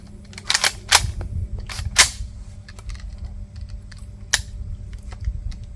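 Johnson rifle shots fired with very hard primers: several sharp, loud cracks, the strongest early then a couple more spaced out, with faint metallic clicks between them and no talking.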